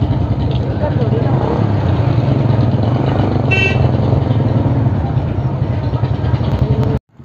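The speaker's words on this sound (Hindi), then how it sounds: "भाई की बाइक में ब्रेक नहीं है और भाई बर्नआउट मारने की कोशिश कर रहा है" A motorbike engine revs steadily in the Free Fire/PUBG video game as the brakeless bike attempts a burnout, a loud continuous mechanical drone lasting about seven seconds before it cuts off abruptly.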